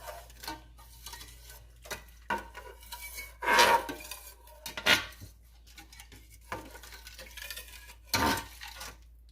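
A spoon stirs beef Hungarian goulash in a metal pot, giving scattered clinks and scrapes against the pot with quiet pauses between, heard close up and without talk.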